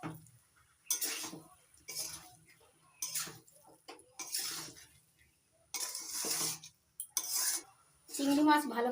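Fried shrimp being stirred into a jackfruit curry in a pan, a metal spoon scraping and knocking against the pan in irregular bursts with short pauses between, close and fairly clear.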